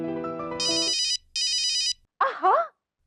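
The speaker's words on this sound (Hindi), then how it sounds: "फोन बज रहा है तेरा।" A telephone ringtone plays alone: a short melodic tune, then two bursts of bright electronic ringing separated by a gap, followed by a brief warbling tone.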